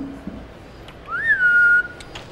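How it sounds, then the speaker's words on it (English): A single human whistle, a rising then steady held tone of about a second, called out to summon a pet lizard at feeding time with rats; clear and fairly close over quiet room background, no talking. "We actually have her trained where I whistle"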